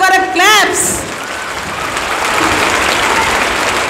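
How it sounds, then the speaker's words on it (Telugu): Schoolchildren at a Mannaguda high school applaud for a guest, Seva Kumar sir, in a loud, dense burst of clapping that begins just after a voice and holds steady to the end. "పిల్లలు ఒక్కసారి సేవ కుమార్ సార్ కొరకు క్లాప్స్."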